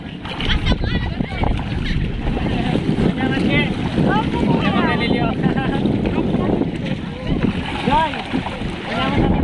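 A boat moving over open sea with steady wind and engine rumble, people talking loudly throughout.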